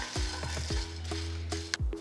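Whole cumin seeds, peppercorns, cinnamon, cloves, cardamom and red chilies are dry roasted in a pan on a medium-low flame, with a soft steady sizzle and repeated scraping taps of a spatula, close and fairly quiet, with no talking.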